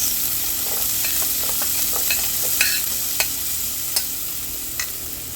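Yellow, green and red peppers with onion hiss in a hot pan under a steady, even sizzle, while a spoon adds light scraping and a few soft clicks against the pan, close by and without talk.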